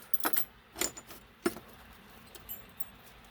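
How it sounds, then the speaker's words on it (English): A bunch of keys jangles in several short metallic bursts, a few quick clinks spaced over a couple of seconds, fairly close against a quiet background. "Whole bunch of keys over here."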